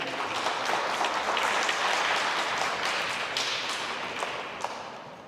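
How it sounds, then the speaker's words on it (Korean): A church congregation at a Korean Sunday worship service in Berlin applauds in welcome, dense steady clapping that rises quickly, holds, then thins toward the end with a few sharper individual claps. "우리 박수로 환영하겠습니다"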